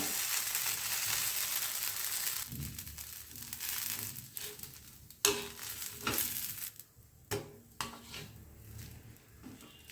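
A dosa crisping on a hot pan gives off a loud sizzling hiss for the first few seconds, then sharper scrapes and metallic clinks of a spatula against the pan take over.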